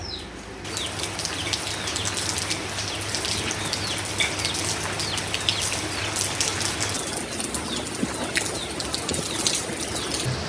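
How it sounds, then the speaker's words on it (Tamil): Light rain falling outdoors, a steady fine patter of drops on surfaces with occasional birds in the background, continuous and without talk. "இப்போ மழை பெய்யுது பார்த்தீங்களா"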